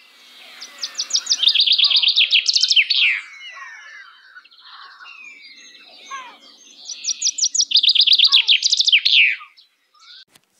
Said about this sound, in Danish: Her kan I høre bogfinkens sang.